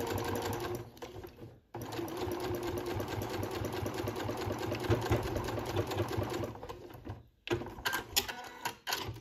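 Sewing machine stitching a seam through fabric backed with freezer paper, a fast steady mechanical whirring and needle clatter that stops briefly twice, then resumes in short bursts.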